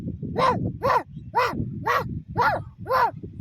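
A young child imitates a dog crying, voicing six evenly spaced, rising-and-falling whimpering howls close to the microphone over a low background murmur.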